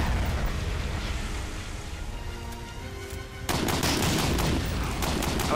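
Gunfire in the video game Medal of Honor: Allied Assault Breakthrough: a busy battle din that breaks into dense, rapid bursts of shots partway through and stays loud to the end.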